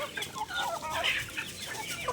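Chickens cluck and chatter close by, several birds overlapping continuously against outdoor background noise.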